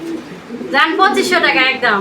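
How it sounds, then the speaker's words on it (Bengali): Lahori pigeons give low, soft cooing in a pair's enclosure, heard briefly and faintly before a person starts talking loudly over them. "এই মুহূর্তে আমরা দেখতে পাচ্ছি আরও এক জোড়া লাহোরি কবুতরের কালেকশন"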